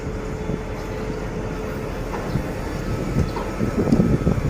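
A passenger train at Kaeng Khoi Junction in Thailand rumbles in a low, continuous roll that gradually swells louder toward the end, with faint clatter over it.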